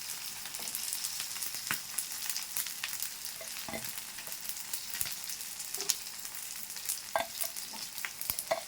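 Dried moyya fish fry in a pan, giving a steady crackling sizzle with scattered pops, and scrape sounds as the pieces are flipped; no talking.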